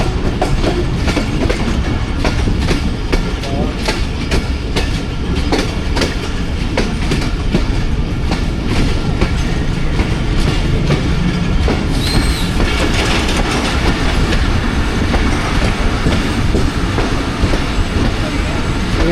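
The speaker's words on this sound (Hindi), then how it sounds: "जी अटक सिटी जंक्शन पहुंच गई ट्रेन हमारी।" The Khyber Mail passenger train runs on rails between Rawalpindi and Attock, heard from aboard as a loud, continuous rumble with steady clickety-clack wheel beats and occasional faint squeals, with no talking.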